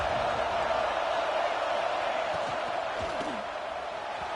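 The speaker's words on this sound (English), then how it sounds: "Listen to the crowd energy here in the early going." Stadium crowd at an LSU versus Georgia college football game, a dense, continuous roar of many voices heard from a distance at moderate level, steady throughout with faint scattered shouts.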